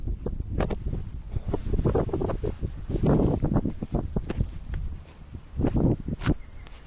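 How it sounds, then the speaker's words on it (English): Wind gusts outdoors beside a property with a big fence and garden, a steady low rush broken by irregular rustling bursts and scuffs, fairly close to the microphone. "Yeah, you got a lot of wind over here."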